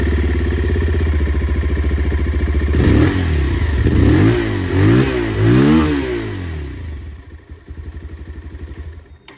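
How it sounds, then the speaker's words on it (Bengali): A Bajaj Pulsar 180 motorcycle revs its engine through the exhaust, climbing from a steady idle into several loud, close throttle blips before it drops back to a throbbing idle. "পালসার 180তে কিন্তু 220 মতন এক্সস্ট সাউন্ডটা আপনারা মানে এক্সস্ট আপনারা পাবেন। সাউন্ডটা শুনে নিন।"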